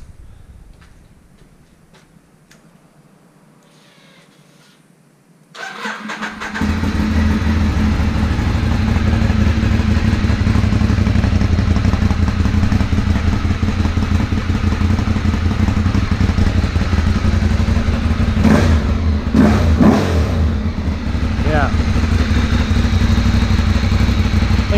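After a few seconds of quiet, a Ducati 848 sport motorcycle engine fires up and runs loudly and steadily up close with a deep rumbling throb.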